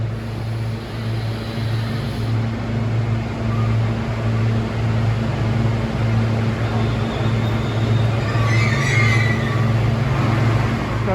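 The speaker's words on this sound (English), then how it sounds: "here comes a train from Mawr with one of the ACS64s" A train hauled by an Amtrak ACS64 electric locomotive rolls past at Bryn Mawr station, a loud, continuous low rumble and hum holding steady throughout, with a brief higher whine late on.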